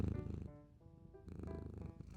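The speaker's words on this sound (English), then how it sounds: "Gives me chin rubs until I'm purring." A kitten purrs steadily in a soft, close rhythmic rumble. A low, faint layer of background music sits underneath, and no one speaks.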